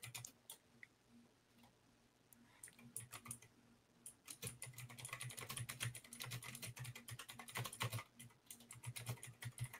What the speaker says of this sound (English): I didn't realize I was typing in all caps.